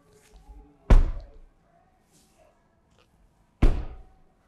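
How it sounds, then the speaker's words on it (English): Two heavy car doors of a 2021 Mercedes-Benz GLB 250 SUV thud shut a few seconds apart, each a solid close slam in an otherwise quiet space. "Let me close these doors."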